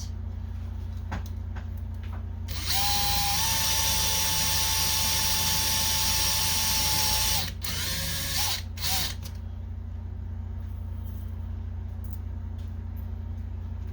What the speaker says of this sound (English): It's a little tricky drilling holes in this really thin aluminum.